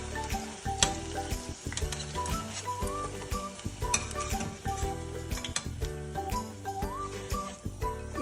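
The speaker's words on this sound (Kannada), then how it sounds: "ಇದು 5 ನಿಮಿಷ ಫ್ರೈ ಮಾಡ್ಕೋಬೇಕು." Brinjal bajji, stuffed eggplant fritters, frying in hot oil in a home kitchen, giving a steady close sizzle and crackle with occasional clinks of a utensil against the pan, no talking.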